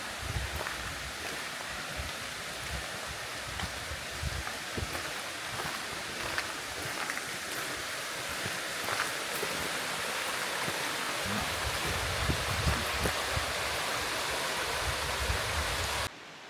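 Waterfall in the Verger gorges in the Creuse, a steady, dense roar of falling water that stays loud and unbroken throughout before cutting off abruptly at the end.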